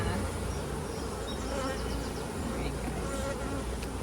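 Honey bees buzz around hives outdoors, a dense, continuous drone of many insects with individual bees passing close now and then, fairly quiet overall.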